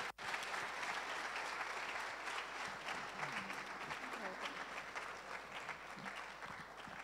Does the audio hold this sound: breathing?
no